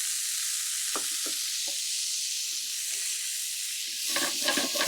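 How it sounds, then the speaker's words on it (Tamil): Spinach tossed with chillies in a hot pan gives a steady, loud sizzle and hiss throughout, with a few soft stirring scrapes and a busier crackle near the end. "அதுக்கு பிறகு கீரையை போட்டு லைட்டாக பெரட்டி அப்படியே எடுத்து சாப்பிட வேண்டியதான்."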